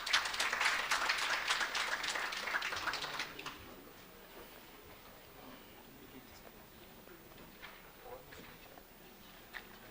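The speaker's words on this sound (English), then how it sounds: "We can clap for her." An audience at a university research day claps for a presenter in a brief burst that fades after a few seconds, followed by quieter room sounds and light talk.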